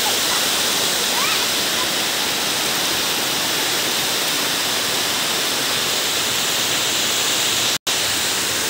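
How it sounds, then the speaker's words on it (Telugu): Water rushes down rocky steps at the Samudralingapuram waterfall, producing a loud, steady, close roar of falling water that continues without a break. "వాటర్ ఎట్లా పోతుందో ప్రెషర్ బాగుంది"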